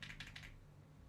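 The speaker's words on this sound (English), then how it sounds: "That's the sound of my keyboard." Quiet typing on a computer keyboard: a short run of crisp, close key clicks for about half a second, then near silence with a low steady hum.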